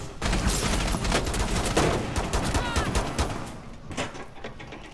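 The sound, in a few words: gunfire in the video game Rainbow Six Siege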